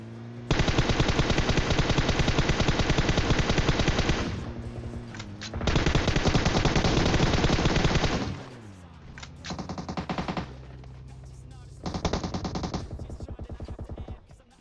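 Sustained automatic gunfire in the mobile battle-royale game PUBG Mobile, loud and close, coming in long bursts with brief gaps and a shorter final burst, with no talk over it.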